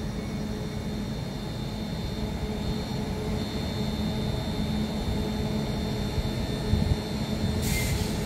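A pair of Northern Rail class 331 electric units rolls over a crossover on a Blackpool North to Manchester Airport run, a steady rumble of wheels and motor hum with faint rail clatter.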